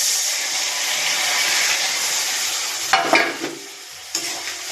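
Spice paste mixed with water frying in a pan with soft boiled tomatoes, giving a steady broadband sizzle; a few scraping stirs and light clatters come near the end.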